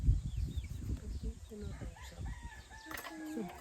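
Turkeys and other farm fowl give faint, scattered calls in a rural yard, mostly under nearby people talking.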